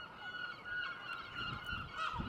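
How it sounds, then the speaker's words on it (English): Seagulls gather noisily in a big flock, giving honking, squawking calls that overlap at a moderate distance and carry on throughout. "seagulls all here."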